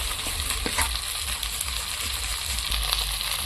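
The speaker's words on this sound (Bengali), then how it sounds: "এবার আলুর সাথে আর মশলার সঙ্গে আমি প্রায় তিন চার মিনিট ভালো করে আস্তে আস্তে কষিয়ে নেব" Potato pieces sizzle loudly in a pan with turmeric, chili powder and ripe tomato, a dense, constant frying hiss close by, broken by occasional stirring scrapes and soft crackles throughout.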